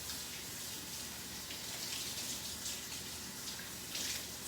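Tap water runs in a soft, continuous patter and splash while hands are washed at a sink. The sound is faint and steady, with no talking.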